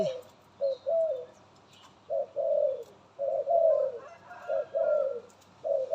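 A pied white dove calls with a rhythmic series of soft, low coos in short and drawn-out phrases, fairly close and clear against a quiet outdoor background.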